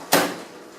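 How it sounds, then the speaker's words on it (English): A single firm thump of the door shutting on a Talento automatic coffee machine, close and fairly loud, with a short fading tail and no talking. "You close your door,"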